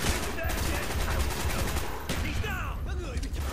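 Rapid, loud, close shots crack in Call of Duty Black Ops amid chaotic battle noise, with a voice shouting over the firing.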